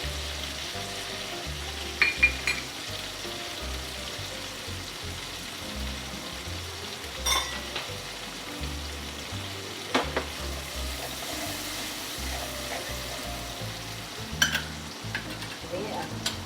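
Asafoetida drops into hot oil in a pan while making a restaurant-style Mysore masala dosa, giving a steady, moderate sizzle and crackle with a few sharper pops and clinks of a spoon.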